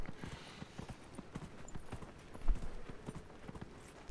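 A horse-dragon mount in the video game Dragon Age Inquisition arrives with clip-clop hoofbeats, a rhythmic series of light hoof taps that swell to a louder thud partway through, with no talk over them.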